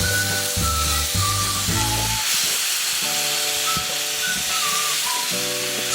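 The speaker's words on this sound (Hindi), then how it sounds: "अच्छी तरह इसकी भुनाई कर लेते हैं।" Chicken filling with chilli paste frying in a pan, a steady broad hiss and sizzle running throughout, with a low mechanical hum in the background.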